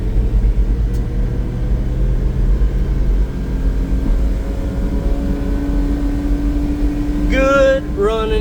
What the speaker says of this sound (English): You can listen to the engine there.